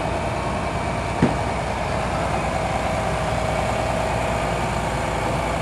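A 1969 model 4520 tractor idles at a farm show parade, its engine giving a continuous, even rumble at close range with no talking, broken only by one brief knock early on.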